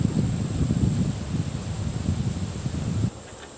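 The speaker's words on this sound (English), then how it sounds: "it's quite windy" Wind blows steadily outdoors at a bushcraft canoe-building site, rumbling and buffeting the microphone with gusty low noise, then easing to a lull near the end; no one speaks.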